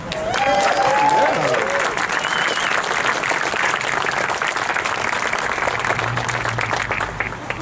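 An audience at an anniversary event for the Catonsville Nine gives a sustained round of applause. The clapping is even and continuous, with a few voices rising above it near the start.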